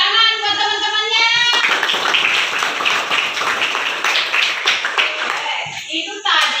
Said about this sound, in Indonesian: Oke, tepuk tangan buat teman-temannya.